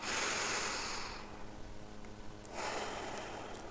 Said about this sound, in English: So first you inhale through the nose.